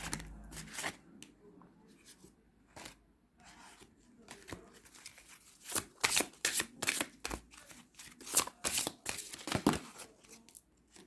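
Tarot cards shuffled by hand in a run of crisp riffles and slaps, loudest in the second half, with quiet gaps between bursts and no talk over them.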